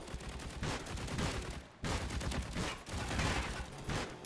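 Rapid, loud hand cannon gunfire from the video game Band of Defenders, dense bursts of shots crackling continuously with two brief pauses, close and dominant.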